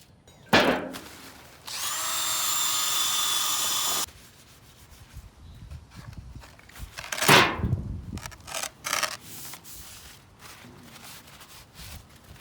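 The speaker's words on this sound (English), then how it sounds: "So now I'm gonna get my drill and attachment." A power drill with an attachment whirs in a steady burst for a couple of seconds on a Chevy floor, surrounded by scraping, knocks and handling clatter of tools.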